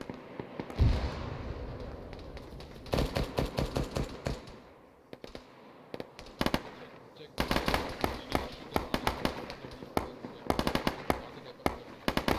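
Rapid bursts of mounted machine-gun fire in the Arma military video game come in dense, loud volleys separated by short lulls, with voices talking over the shooting.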